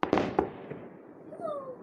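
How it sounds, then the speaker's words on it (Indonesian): Fireworks bursting on New Year's Eve in Austria: a few sharp bangs and crackles in quick succession at the start, then whistling streaks rising and fading, heard from a moderate distance. "Ah, kembang api."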